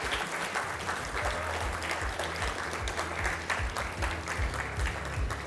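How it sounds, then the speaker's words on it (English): Sustained applause from an audience at a competition grand finale, a dense even patter of clapping hands filling the room throughout. "Please give them a round of applause."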